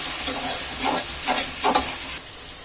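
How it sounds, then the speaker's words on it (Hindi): Sliced onions sizzling in hot oil in a pan, a constant close hiss with a few soft stirring swells, loud and steady without any voices. "प्याज को हम थोड़ा भूंज लेंगे"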